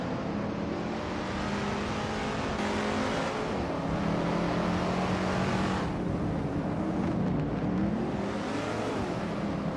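Race cars launch at the start of a video game race that includes a Dodge Challenger R/T muscle car, with a dense, steady roar of revving engines and shifting pitches, mixed together at a moderate distance.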